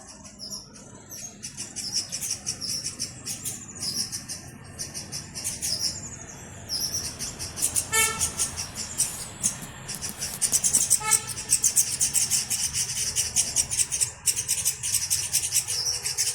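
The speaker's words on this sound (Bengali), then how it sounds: "শুধুই পাখির ডাক, আর কিচ্ছু নেই" Birds call in the evening in the hills, with many chirps and tweets that grow busier and louder toward the end. Two short bursts of rapid repeated notes stand out over faint background noise.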